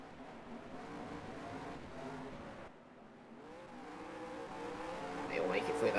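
Race car engines drone steadily around the Imola circuit in a touring car racing video game, a continuous mid-level roar that swells slightly near the end, with a commentator talking over it.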